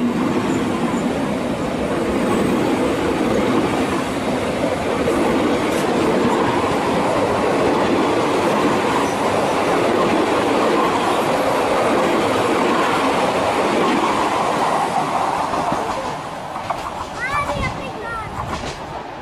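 A passenger train on the Bergen Railway rolls along steadily with a continuous rumble and rhythmic wheel clatter, loud and close, and a brief squeal near the end.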